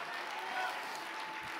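A church congregation claps along during a gospel service in Nashville, Tennessee, a dense, steady wash of many hands that continues with crowd noise throughout.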